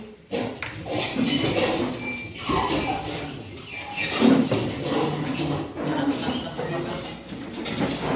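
Students moving and tidying desks and chairs in a classroom, a busy run of scraping, knocking and shuffling furniture noises at close range, mixed with chatter and voices throughout.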